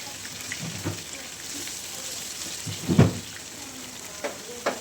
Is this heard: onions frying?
yes